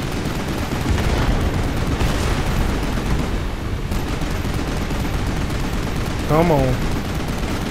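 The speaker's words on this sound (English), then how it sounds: "I'm just gonna keep shooting at you." Gunfire from the video game Final Fantasy XV, in the Prompto episode, keeps up in loud, dense bursts across the whole stretch. Someone speaks briefly over the shooting.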